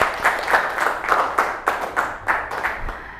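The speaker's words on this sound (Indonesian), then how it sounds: "tepuk tangan buat kita semua" Students in a classroom clap together in a rhythmic, pulsing burst, the claps coming in regular waves at a close, fairly loud level.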